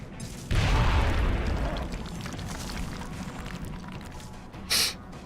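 A frag grenade explosion in the video game XCOM Long War, one deep loud boom that rolls off into a long rumbling tail, then a short sharp burst near the end.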